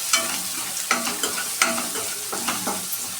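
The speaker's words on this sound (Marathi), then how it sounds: "आणि परत ते थोडं परतायचं." Chillies and garlic sautéed in a pan for tomato saar: a constant hot sizzle broken by repeated scraping strokes of a spatula stirring, close and fairly loud with no talk.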